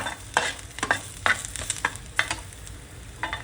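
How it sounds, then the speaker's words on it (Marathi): Onion roasting in a pan for village-style mutton is stirred, with repeated scraping strokes and light crackles rising over a soft sizzle, close and moderately quiet. "आपला कांदा आता भाजला गेला आहे."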